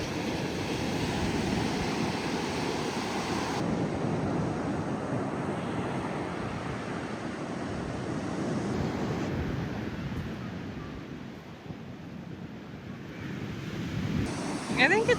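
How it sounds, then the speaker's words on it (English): Ocean surf where a river feeds into the sea on Washington's Olympic Peninsula coast, a steady broad wash of breaking waves with gusts of wind noise, moderately distant and continuous throughout. "River feeding into the ocean."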